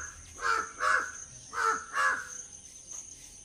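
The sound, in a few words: crow cawing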